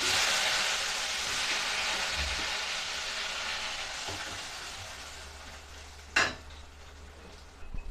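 Garlic and tomato fry in a pan, a broad sizzling hiss that slowly fades, broken by a sharp clatter of a utensil near the end, close by with no voices.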